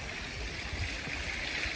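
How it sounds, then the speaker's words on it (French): A small cascade of water in Toulouse runs steadily, a continuous close-up rush and trickle with no pauses or voices. "j'adore le bruit de l'eau"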